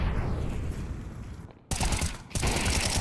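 Counter-Strike M4 rifle fire comes in loud, dense bursts with a short pause between them, close and punchy over the game's ambient noise, with no talk.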